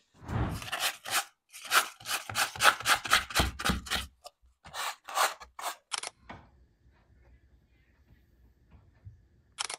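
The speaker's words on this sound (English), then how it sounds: "now you simply want to finish up with sanding" Rapid rhythmic scraping strokes of hand-sanding a drywall ceiling patch, loud and close, gradually slowing to a few scrapes before fading into quiet.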